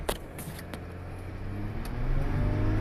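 A Ram EcoDiesel pickup truck pulls away hard, its diesel engine building from a low rumble to a louder, steadily rising drone as the turbo spools during launch, with no one talking.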